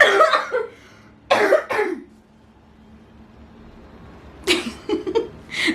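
Three separate coughs ring out close by, with quiet pauses between them; the last comes as a short cluster of hacking bursts.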